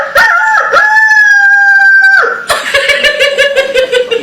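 A human voice imitates a rooster's dawn crow at 4 am: a loud, sustained rising crow held for about two seconds, followed by a choppy, cackling tail of short bursts.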